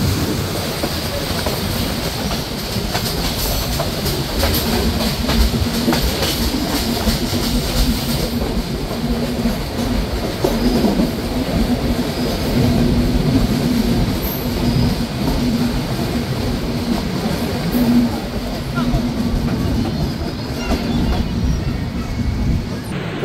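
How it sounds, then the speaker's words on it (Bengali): Padma Express train entering Baral Bridge railway station on a single line, a steady rolling rumble and rattle of carriages heard from on board, continuous and fairly loud, with faint wheel squeal and a little background talk. "ট্রেনটি এখন প্রবেশ করছে বাংলাদেশের অন্যতম একটি রেলওয়ে স্টেশন"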